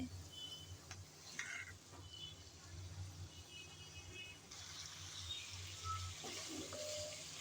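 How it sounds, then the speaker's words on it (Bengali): Pre-fried prawns and papaya going into a pan of cooked-down spice paste with a little water and being stirred: a faint, steady sizzle with soft scraping and stirring that swells slightly partway through. "এখন দিয়ে দেব আগে থেকে ভেজে রাখা চিংড়ি আর পেঁপে"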